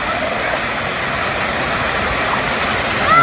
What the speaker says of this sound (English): That's a cute little waterfall and a little swimming hole.